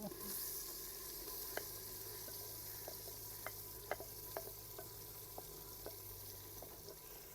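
Dal and greens tipped into a pan of sizzling masala gravy in a rustic mud-house kitchen, giving a steady low fry with scattered soft stirring clinks and taps, fairly faint and without talk.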